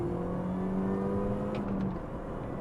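A 2004 R53 Mini hot hatch with 112,000 miles driving along, its engine holding a steady, loud hum with a sustained whine throughout, heard from inside or close by, with no talk.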